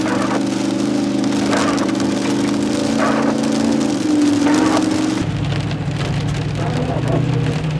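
Steady, dense heavy rain drums on a surface throughout, with a low engine-like hum underneath and no voices.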